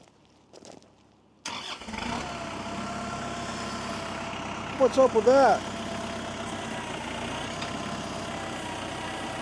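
A tractor engine cranks and catches after a short pause, then settles into a steady low idle; a person speaks briefly over the rumble.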